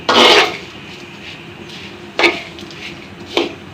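Flattened rice (chira) is stirred while frying in a pan. Three close, scraping strokes of a utensil rasp across the pan with short pauses between them.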